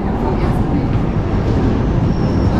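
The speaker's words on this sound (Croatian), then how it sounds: "Evo ga, čuje se kako huči naš metro." A Budapest metro train rumbles loudly and steadily through the old underground line, a close continuous roar with faint wheel squeal near the end.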